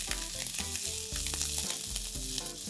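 Garlic, ginger, garlic chives and fresh corn stir-frying for rice: a loud, continuous close sizzle with rhythmic tossing and scraping in the pan, no voices.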